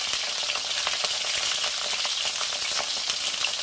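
Wet, unwashed cauliflower frying in hot oil while cooking dhaba-style Rajasthani chana dal, a loud continuous sizzle full of crackling spatter pops, close and steady throughout with no voices.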